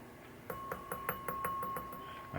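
A polished bell on a 1967 Williams Blast Off pinball machine, tapped by a finger in a quick run of about eight light dings, close up and faint, with one sustained ringing tone beneath.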